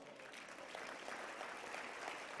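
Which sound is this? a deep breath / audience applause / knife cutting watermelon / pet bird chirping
audience applause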